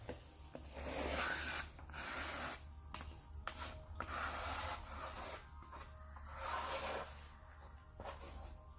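A spreader smoothing caulk along a vinyl baseboard gives a faint, continuous rubbing and scraping in long strokes, quiet and close under low room noise, with no talking.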